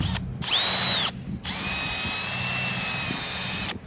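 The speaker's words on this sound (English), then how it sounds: "we're gonna take the drill with the sandpaper and the attachment on there." A power drill with a sandpaper attachment whines steadily at close range while sanding a Jeep Grand Cherokee headlight, briefly stopping and restarting, with a continuous high-pitched motor tone over a grinding buzz.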